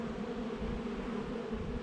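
Steady, dense buzzing of many bees at a hive on a Portuguese farm, close and continuous with a low hum throughout, no voices.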